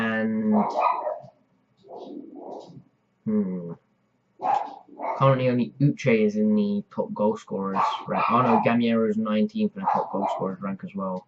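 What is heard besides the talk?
dog barking in the background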